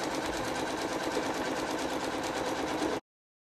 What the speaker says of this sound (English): So this is going to stitch the guide for putting the batting in.